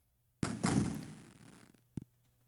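In a Resident Evil 2 game, a door is unlocked with a key and opens: a sudden thunk, a longer dull rumble fading over about a second, then one short knock near the end, in otherwise quiet surroundings.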